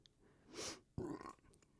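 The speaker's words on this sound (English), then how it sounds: "I burped." A single person's burp, short and close, rising out of quiet room tone after a brief breathy exhale.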